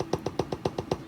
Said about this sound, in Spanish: Para el hi-hat agarré el puro final del pedo.